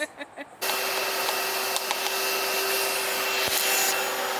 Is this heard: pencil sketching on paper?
no